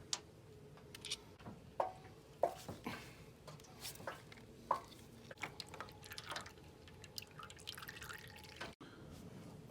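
Motor oil dripping from the drain plug of a BMW G310 motorcycle, quiet irregular drips and ticks falling into a pan, close and faint with no talking.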